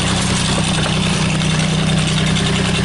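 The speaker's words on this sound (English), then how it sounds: "work the snowblower here" A Meteor GC1710 snowblower runs at night, its engine droning in a steady, loud, close mechanical hum with a low rhythmic throb and no voices.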